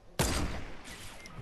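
A sniper rifle shot in a video game cracks loudly at once, then rolls into a long, noisy echoing tail that fades slowly, with no speech.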